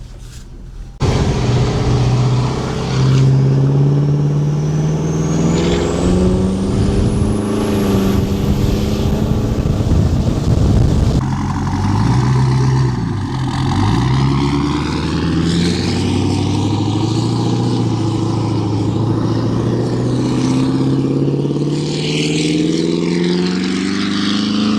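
A 700-horsepower 6.7 diesel pickup with a big non-VGT turbo roars loudly on the road, its engine revving and climbing in pitch with a rising turbo whine, then dropping back and building again, continuous and close.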